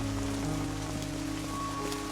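Steady rain falling in a city setting, an even, continuous hiss of drops on surfaces with a low background hum underneath, unchanging throughout and with no one speaking.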